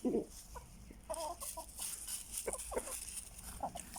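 A hen clucks in short, irregular bursts, close by, with faint farmyard background noise.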